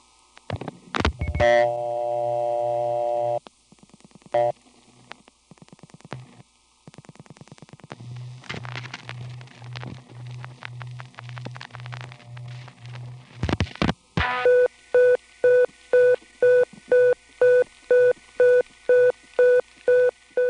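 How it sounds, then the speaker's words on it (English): A mechanical beeping telephone tone from the Kenmore Place panel office in Brooklyn opens with clicks and a sustained tone, then switches and relay clatter, and ends in a crisp, evenly spaced series of electromechanically generated beeps, with no speech. "instead of a second dial tone, you would get a beeping tone. Here's an example from the Kenmore Place panel office in Brooklyn"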